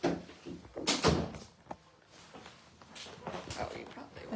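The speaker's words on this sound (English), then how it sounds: "Oh, wait, let's shut this door." An indoor door is pushed shut with a brief thunk and some handling knocks, heard among people talking nearby.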